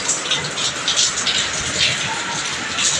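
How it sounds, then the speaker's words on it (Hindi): Heavy rain pours steadily outdoors in a dense, continuous hiss, loud and close, with no talking over it. "इतनी तेज़ बारिश हो रही है देखो"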